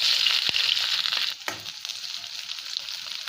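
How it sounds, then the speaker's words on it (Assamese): Steady, bright sizzling of onions frying in hot oil in a wok, with a couple of sharp clanks and stirring scrapes partway through. "এতিয়া মই পিঁয়াজখিনি দি দিছোঁ।"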